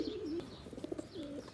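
Pigeons coo in soft, low, rolling calls that repeat a few times, faint and close, with no talking over them.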